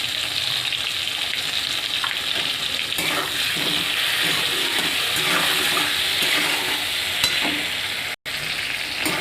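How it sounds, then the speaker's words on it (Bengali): Pumpkin pieces frying with salt and turmeric in a pan with tomato, a steady loud sizzle with stirring scrapes running throughout, close up and with no talk. "পরিমাণ মতো নুন দেবো আর হলুদ দিয়ে ভালো করে কষিয়ে নেব"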